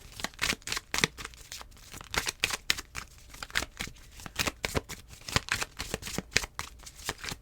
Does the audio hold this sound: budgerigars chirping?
no